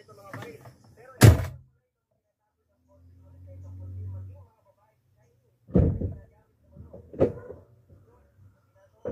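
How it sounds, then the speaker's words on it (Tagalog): A car hood being opened during an alarm and switch test, a sharp metallic clunk followed by later thuds and handling knocks, close by, with someone speaking in between. "Tapos i-open ko yung doon sa hood."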